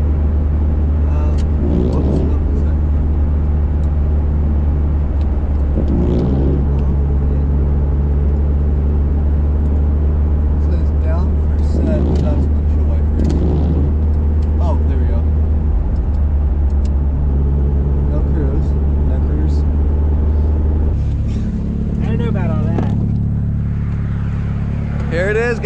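A 1995 Mazda Miata, a formerly abandoned car, cruises on the road with a steady low engine drone and tire hum that shifts pitch near the end, while people talk inside the cabin.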